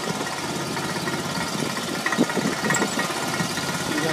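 A homemade wood splitter's engine runs steadily close by, its low mechanical chugging and knocking holding an even level throughout with no talk.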